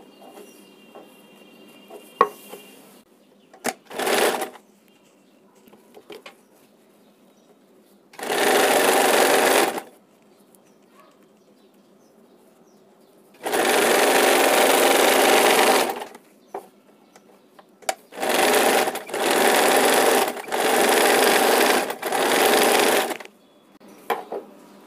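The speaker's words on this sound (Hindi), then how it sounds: "1 इंच लेकर इसको सिलाई करना है।" Sewing machine stitching a blouse, running in several separate bursts of steady, loud whirring with quiet pauses between them, no talking.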